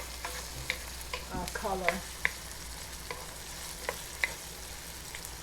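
Pork sizzles steadily in a pan of hot oil as atchuete oil is added for Filipino pork menudo, with scattered sharp spatters and a brief stirring scrape in the middle; a voice speaks briefly.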